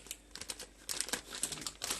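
Plastic piping bag crinkling as it is filled with cream for cake decorating, with a close series of sharp, irregular rustles and crackles that grow busier toward the end, with no talking.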